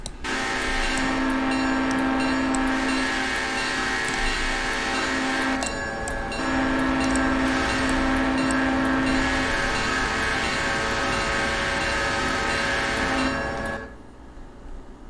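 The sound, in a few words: train running in Railroader video game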